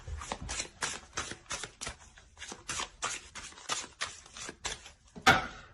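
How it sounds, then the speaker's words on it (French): Tarot cards are drawn and handled from a deck as a quiet, close series of quick papery flicks and soft slaps, with one sharper snap near the end and no talking. "On va tirer une carte conseil."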